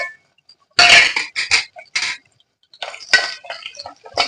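Sliced onions hitting hot oil in a pan and stirred while cooking a ridge gourd mutton curry, with sharp sizzling bursts and clinks of a spoon against the pan in short, uneven clusters.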